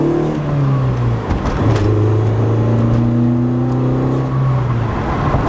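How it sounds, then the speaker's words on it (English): A Honda Civic engine runs while driving, a steady loud drone whose pitch shifts as it revs and settles, heard close from inside the car with no talk. "Car's finally running."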